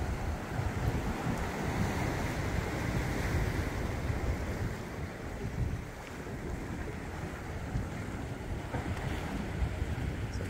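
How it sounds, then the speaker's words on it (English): Steady wind and surf wash over the microphone, with a low engine-like rumble of fishing boats on open sea off Tenerife underneath. "fishing boats out there"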